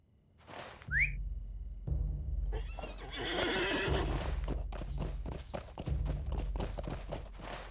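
In the video game Lord of the Rings Online, a horse whinnies loudly with a rising neigh, then its hooves clip-clop in a steady walking rhythm, close and clear, alongside bursts of snorting and movement.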